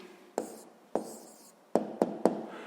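Pen writing an answer to a sixth-grade fraction division problem, a few short sharp strokes on paper, close and distinct with quiet gaps between them.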